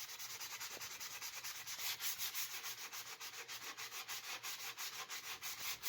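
An antique ice axe is sanded by hand with a sanding block and WD-40, producing a close, rhythmic rasping of quick repeated back-and-forth strokes.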